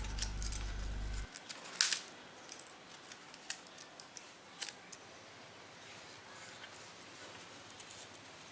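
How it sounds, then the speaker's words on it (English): A blade cuts into foam to make a servo slot for a mini electric RC glider, with a few faint close scraping slices and small ticks, following a brief low hum at the start. "Then cut it by the blade to make a place for the servo."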